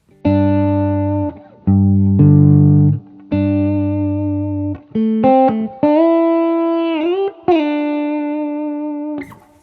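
A distorted electric guitar plays sustained lead notes in short phrases, some bent and wavering with vibrato, loud and close with no voices.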